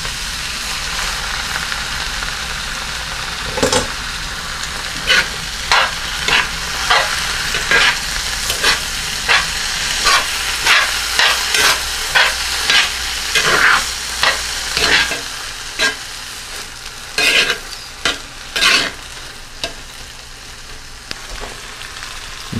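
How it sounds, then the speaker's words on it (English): Beans sizzle steadily in a hot pan as a spoon scrapes and stirs them in repeated, rhythmic strokes close by, with no voices. "Now I'm going to add the beans."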